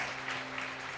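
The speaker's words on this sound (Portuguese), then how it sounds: "Você pode aplaudir ao Senhor?" Congregation applauding the Lord during an evangelical church service, a steady, dense wash of clapping that fills the whole second at an even level, with a faint tonal hum beneath.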